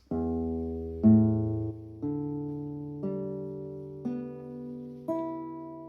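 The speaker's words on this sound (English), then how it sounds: "When you're not holding the strings and you play them downwards, it should sound like this." Six open acoustic guitar strings sound one after another, low to high, each ringing out about a second apart, clear and close with no talking.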